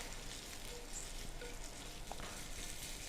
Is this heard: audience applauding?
no